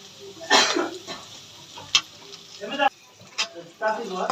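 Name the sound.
peas added to carrots frying in butter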